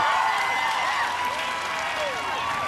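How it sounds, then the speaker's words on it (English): A crowd at an American Ninja Warrior qualifying course cheers and applauds for a competitor, a continuous wash of clapping and shouting that holds steady throughout, with a commentator's voice likely mixed in. "Crowd cheering him on."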